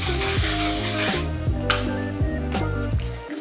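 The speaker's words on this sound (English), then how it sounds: "I set it off with the One Size mattifying waterproof spray" A short burst of One Size mattifying waterproof setting spray hisses for about a second, close and airy, over steady background music, then the music continues alone.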